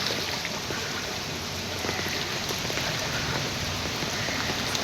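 Heavy rain falls steadily in Mumbai's Mantralaya area amid waterlogging, a dense even patter on surfaces with no voices, constant and fairly soft throughout.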